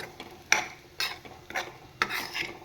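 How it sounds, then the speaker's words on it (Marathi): Sabudana (sago) frying in a pan for khichdi while being stirred, with a steady low sizzle broken by four scraping strokes of a spoon across the pan, close and clear, no talking. "साबुदाणा फ्राय करून घ्यायचा आहे."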